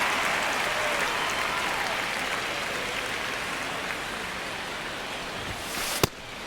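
Ambient crowd noise at Dodger Stadium in the MLB The Show 26 baseball video game, a steady wash of distant murmuring spectators, ending with a sharp click.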